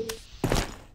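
A weapon reload in the video game Nuclear Dawn: a brief muffled clunk, then a firmer mechanical thunk about half a second later, close and short.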